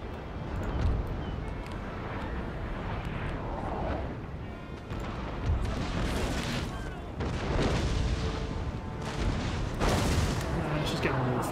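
Massed troops fire volleys of gunfire in Empire: Total War, a dense, continuous battle din of booming shots and rumbling crackle, with someone talking over the fighting throughout.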